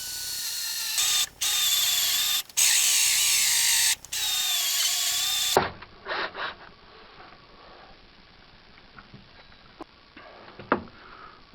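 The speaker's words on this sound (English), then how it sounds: "I'm just going to be drilling the hole and then mounting the fuel gauge in there" A power drill bores a hole in a boat for a fuel gauge, three loud whining bursts separated by short pauses, followed by quieter scraping, clicking and handling noises.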